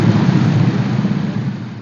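Heavy rain roars steadily over a flooded street intersection in Samarinda, with a low rumble like thunder filling the background for the whole stretch, loud and unbroken, with no voices.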